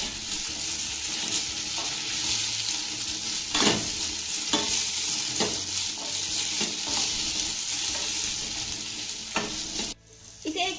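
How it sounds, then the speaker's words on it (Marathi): Steady sizzling of bottle gourd vadas sautéing in a spice tempering in a pan, with a few clattering stirs and scrapes, close and continuous, ending in a brief quieter pause. "फोडणीमध्ये वडे घालून झाले की एक ते दोन मिनिटाला चांगलं परतून घ्यायचं आहे"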